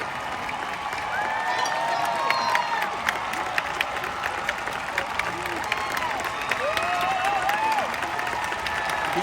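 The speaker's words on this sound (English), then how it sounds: "Look at that standing ovation." A large outdoor concert audience at the Hollywood Bowl on opening night gives a standing ovation, with sustained dense applause and scattered cheers and whistles throughout, steady and loud with no pause.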